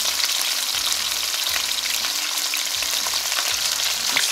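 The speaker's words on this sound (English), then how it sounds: "Fry them on both sides until they are golden" Fish sizzles steadily in hot oil as it fries until golden for a Jamaican curry rundown, a loud, continuous crackle that goes on alone without any voices.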